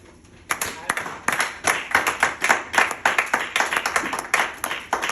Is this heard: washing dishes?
no